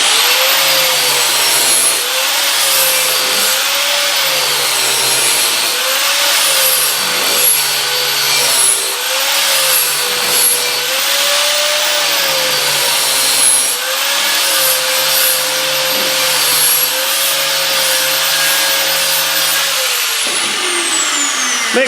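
An engine connecting rod on a 2.25 engine is ground down to reduce its weight, making a loud continuous high whine from the grinder with rhythmic dips and pitch wobbles as the rod is pressed on and eased off.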